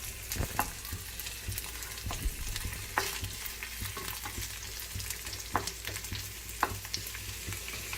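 Sliced garlic and onion frying in a pan for Karnataka-style bassaru, a steady close sizzle with scattered sharp crackles and occasional stirring scrapes throughout.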